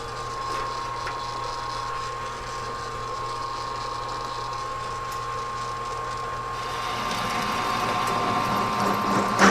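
A metal lathe cuts with a new CNMG insert, giving a steady mechanical whir and chatter with a constant tonal whine that grows louder and rougher toward the end.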